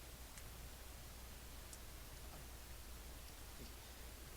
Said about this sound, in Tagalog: Tumahimik lang, wala lang yung ulan